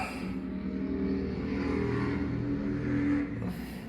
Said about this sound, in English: Nice motorcycle going by.